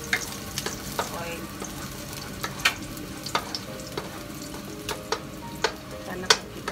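Garlic frying in olive oil in a pan for yakisoba, a steady sizzle broken by sharp clinks and scrapes of a utensil stirring at irregular intervals, close by and with no talking.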